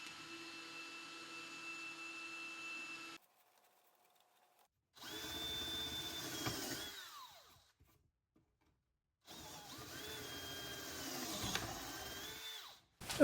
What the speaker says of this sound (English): Now I'll just get a small hole drilled through the corner of the base.